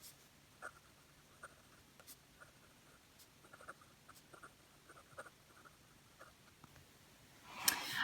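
A fountain pen with a fine steel nib scratches across Clairefontaine paper in faint, irregular strokes and ticks, quiet and close, with a louder rustle at the very end.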